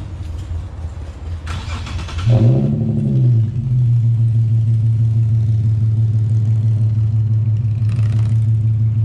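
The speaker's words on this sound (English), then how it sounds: "this will be first start of eBay muffler delete" An Infiniti Q50 with the 3.7 engine and an eBay muffler delete cranks and fires with a loud surge, then settles into a steady, low, grumbling idle that carries on alone to the end.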